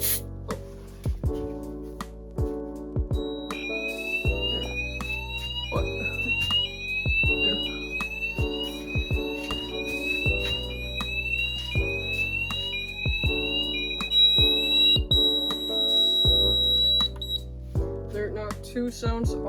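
A fire alarm in a garage goes off during a smoke detector test, sounding a loud, repeating electronic tone pattern with rising sweeps and steady beeps that continue for the whole stretch.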